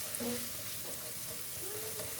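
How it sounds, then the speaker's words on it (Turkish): Steady sizzling in a hot pan with faint scraping as diced carrots and onions are stirred, continuous and close. "Karıştıralım havuçla soğanlarımızı."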